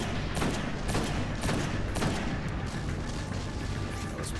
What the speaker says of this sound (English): Let's see if we can't get a couple shots off here.